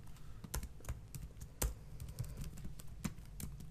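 Quiet keystrokes on a computer keyboard tap in irregular bursts while someone types code, with no speech.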